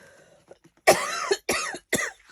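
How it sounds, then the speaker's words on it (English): A woman coughs three times in quick succession, loud and close, with short gaps between the bursts and faint background noise before them. "I am so sorry for coughing."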